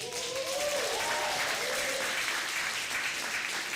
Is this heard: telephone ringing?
no